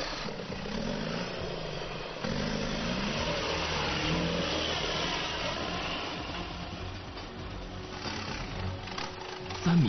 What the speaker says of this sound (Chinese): 机械绞盘强大的牵引能够轻易就把赛车拖了上去